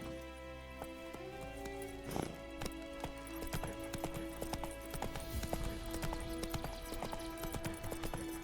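Roach, the horse in The Witcher 3, gallops with a steady clip-clop of hoofbeats against a layered game soundtrack, the rhythm continuous and fairly close throughout, with a brief snort or whinny near the start.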